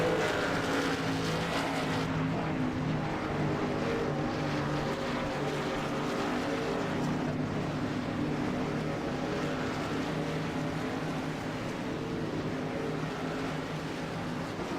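Race cars circle a track in a broadcast race, making a continuous engine roar that rises and falls as the field goes past. The roar is moderately loud and steady, and no commentary is heard over it.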